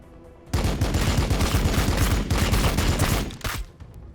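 A tank in the Warhammer 40K Battle Sector video game opens fire with a sudden, loud, sustained burst of rapid shots that fades after about three seconds.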